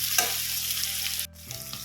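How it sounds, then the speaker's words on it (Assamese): Onions fry in a pot with meat for a duck curry, with a steady close sizzle and a few stirring scrapes before the frying briefly quiets. "আধাখিনি পিঁয়াজ মই এতিয়া মাংসত অলপ দি লওঁ। 2 মিনিটমান ভাজি ল'ব লাগিব।"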